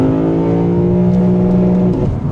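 A Lexus V8 engine revs hard to about 7500 rpm, a loud, steady, high-pitched howl heard close up that holds its pitch before dropping off near the end, with no talk over it.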